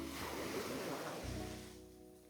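Surf rolls onto the beach at Crystal Bay, Thailand, a steady broadband wash of waves that fades slightly toward the end, with some wind on the microphone and no talking.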